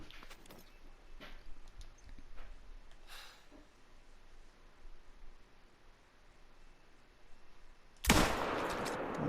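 A .270 rifle fires at fallow deer in a hunting video game: quiet outdoor ambience with faint ticks, then one sudden loud shot near the end whose blast rings on.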